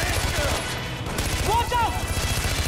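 Rapid gunfire in the open-world shooter Far Cry 4, a dense run of shots repeating steadily under game noise with a brief lull midway and a voice talking briefly.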